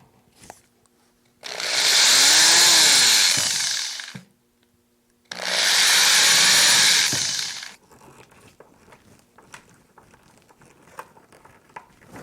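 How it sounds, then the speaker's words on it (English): A power drill whirs in two bursts of a few seconds each, pre-drilling holes in wood for a hinge, rising and falling in pitch, followed by faint clicks and handling noises. "I'll pre-drill a few holes."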